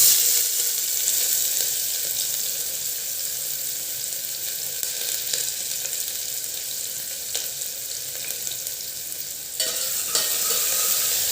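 Chopped onion hits hot oil with crackled cumin seeds in a kadai, sizzling loudly and steadily up close with occasional stirring scrapes and no voices.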